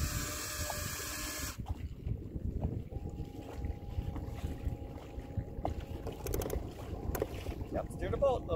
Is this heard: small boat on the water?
yes